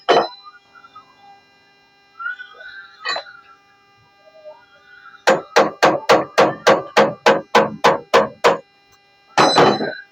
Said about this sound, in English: So you now use your hammer's head and hit